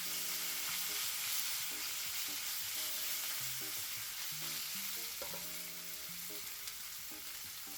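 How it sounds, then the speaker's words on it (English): Marinated beef strips searing in a hot pan for a stir fry, a steady bright sizzle throughout with soft background music notes underneath, no voices. "we're going to add in about half of our marinated beef strips"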